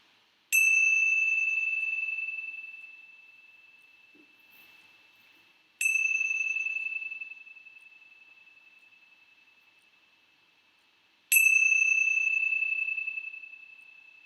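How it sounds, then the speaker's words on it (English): Three separate bell strikes ring out about every five and a half seconds, each a clear bright tone that slowly decays into silence, with no voices present. "let's begin our time with the ringing of the bells"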